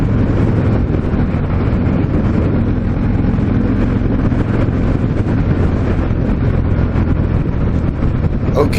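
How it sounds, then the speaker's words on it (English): A 2019 Harley-Davidson FXDR with a Milwaukee-Eight 114 cubic inch engine accelerates onto a freeway, its steady, loud engine roar blended with heavy wind rush throughout. "this Milwaukee 8 114 accelerates up onto the freeway effortlessly"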